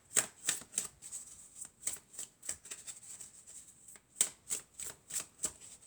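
Tarot cards shuffled by hand in a steady run of crisp riffling bursts, about a dozen quick snaps spaced through the stretch, close and clear with no talking.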